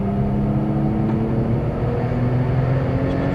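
A Porsche 997 drives past at close range, its engine a dense, steady low rumble that fills the moment without letup.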